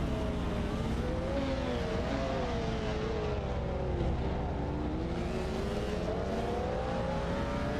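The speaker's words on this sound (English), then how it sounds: "Duff Dad and Smokster 24 in Lamborghini Diavolo SV are fighting hard against Zygote 22 and Rinsink in the Lamborghini Diavolo GTR for the 18th position" Lamborghini Diablo SV and Diablo GTR race cars duel among a field of AI-driven cars in a racing video game, engines droning and whining steadily with shifting pitch, continuous and fairly loud, no talking.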